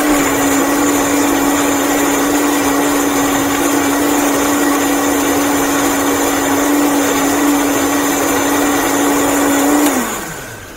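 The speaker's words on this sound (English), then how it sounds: "So I'm going to take a minute and blend this." Vitamix blender running at high speed while blending lemon ginger tea, a loud steady whirring roar with a constant motor whine that winds down at the end.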